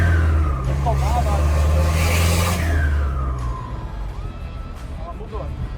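A Chevrolet D20 S4 pickup, converted from naturally aspirated to a K16 turbo kit, rumbles up close while its turbo whistles in high, rising and falling chirps over the deep engine drone, easing off partway through.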